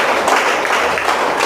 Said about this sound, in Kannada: ಜೋರು ಚಪ್ಪಾಳೆ ಯಾವುದಲ್ವಾ?